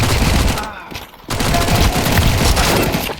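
Rapid bursts of video game gunfire crackle loudly and densely for a few seconds, with a short lull before the shooting resumes.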